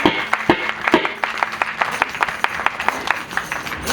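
Hands clapping in rhythm at a Meldi Mataji mandvo celebration in Surat, a steady run of sharp claps about twice a second, moderately loud, with crowd noise and faint voices underneath.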